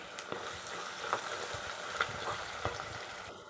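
Chopped tomato fries in a pan with gongura leaves, giving a steady close sizzle with faint spoon scrapes and light stirring taps throughout, no voices.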